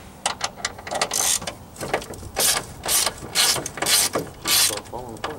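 A ratchet clicks in repeated bursts while loosening the three upper strut mount bolts on a 2001-2005 Honda Civic, loud and close with short pauses between strokes and no talking.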